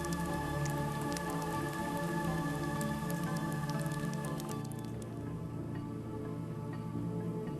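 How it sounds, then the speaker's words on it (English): Rain churning volcanic mud on the Serengeti, a dense, steady hiss of drops that continues throughout beneath sustained tonal sounds. "the world is transformed as rain churns the volcanic mud."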